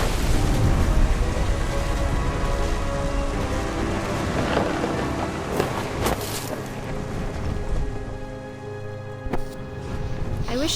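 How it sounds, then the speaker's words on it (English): Thunder rumbles and rain pours in a storm scene from the game What Remains of Edith Finch, a dense wash of rainfall with deep rolling booms, under a narrator's voice. "The thunder sounded much too close and full of angry power."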